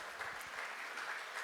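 Conference audience applauding steadily throughout, a dense wash of clapping from a room full of people with no talk over it.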